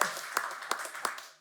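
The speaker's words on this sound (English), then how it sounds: "we got to applaud Rose" Brief applause for Rose at a meeting, a few distinct hand claps spaced evenly against a soft background, fading out quickly within about a second and a half.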